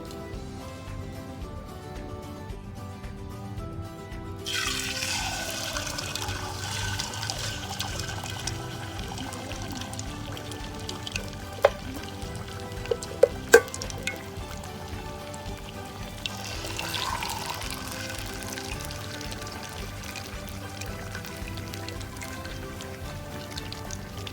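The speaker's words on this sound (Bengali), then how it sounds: "এখানে দেখতে পাচ্ছেন দুটো আস্ত আস্ত মুরগি ভাজা হচ্ছে" Two small whole marinated chickens deep frying in plenty of oil: after a few quiet seconds a steady, close sizzling hiss starts, with a few sharp pops and crackles.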